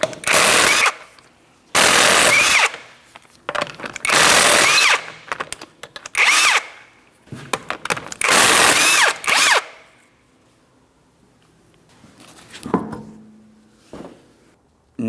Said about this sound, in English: remove all 5 of your 19mm lug nuts and we can get the wheel off of here